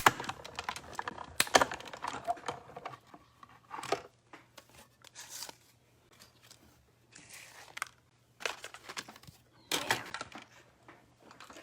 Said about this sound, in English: we're through with our cut and emboss machine